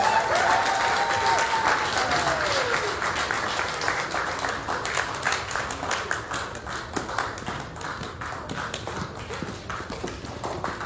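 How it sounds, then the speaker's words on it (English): Audience at a live NUP rally in Chicago applauds, a dense wash of clapping that starts loud and gradually thins, with a sustained whistle or vocal tone sweeping over the opening seconds. "give a hand clap for these lucky young ladies"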